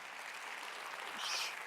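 Audience applause at a design conference talk, a steady broad wash of many hands clapping throughout, swelling slightly near the end, with no talk over it.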